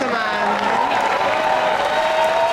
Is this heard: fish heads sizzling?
no